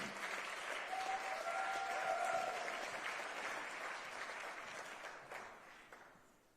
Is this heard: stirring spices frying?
no